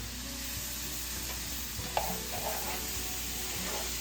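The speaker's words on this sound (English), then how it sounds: "Let that cook just a minute. And give it a stir." Crushed garlic and onions frying in a pan over a high flame, a soft, even sizzle running throughout with a single light clink of the spoon partway through and no voices.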